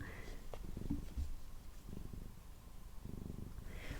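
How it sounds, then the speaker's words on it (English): A cat purring close by in a quiet room, low rhythmic rumbling pulses in several bursts with faint rustling as it shifts about, under soft whispered talk. "my cat's moving about"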